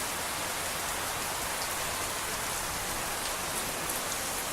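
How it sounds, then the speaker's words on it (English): Heavy rain pours down steadily during a road trip storm, a dense, continuous hiss of drops on surfaces, loud and unbroken throughout with no voices. "that's how much rain is coming down over there that you can't even see the mountains"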